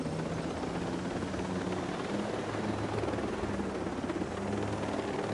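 Steady, continuous helicopter rotor and engine drone in a video game, with a low thrumming beat and broad rushing noise. It stays loud and even throughout, with no voices.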